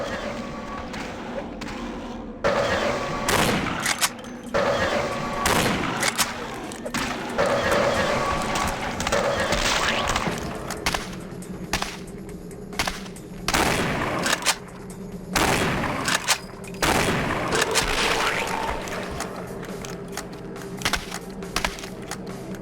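Repeated shotgun blasts in Vampire The Masquerade Bloodlines, loud sharp booms in irregular bursts over about twenty seconds, with brief gaps between volleys and game ambience underneath.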